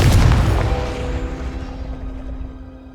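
A single Confringo blasting spell explosion in Hogwarts Legacy: a heavy, near boom that fades over a few seconds into a lingering hum.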